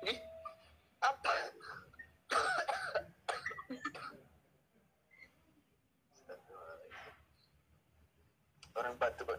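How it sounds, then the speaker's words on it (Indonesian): A man coughs a few times in a casual indoor setting, with bursts of laughter and chatter from others around him between the coughs. "Orang batuk kok diketawain ya?"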